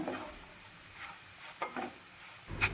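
Cooked basmati rice stirred into green masala in a pan, soft scraping and shuffling strokes with faint sizzling, a few quiet spatula scrapes spaced out over a few seconds.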